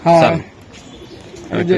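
Pigeons cooing close by, a low throaty coo at the start and again near the end, a voice talking in between.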